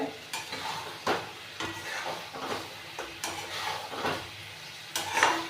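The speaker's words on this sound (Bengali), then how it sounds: "দেখুন কষাটা প্রায় হয়ে এসছে" Mutton kosha curry is stirred and fried in a pan, with a spoon scraping and knocking in a steady rhythm over a soft background sizzle, close and moderately quiet, with no talking.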